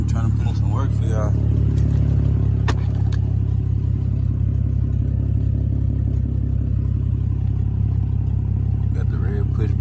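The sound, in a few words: BMW N52 E90 engine idling with aftermarket headers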